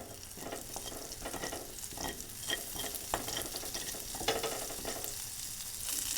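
Butter sizzling and crackling in a frying pan before sweet corn goes in for paneer fried rice: a steady, fairly soft hiss with small pops, nearby and with no talking.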